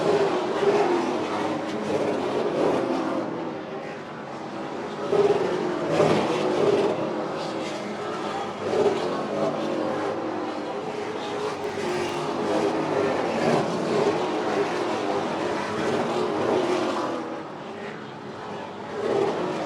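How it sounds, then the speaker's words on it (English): Super late model stock cars race around an oval track during a 150-lap event, a continuous loud roar of several engines rising and falling as the pack passes, with no talk. "Woolridge trying to get around Duncan. Down the backstretch in 3 and 4"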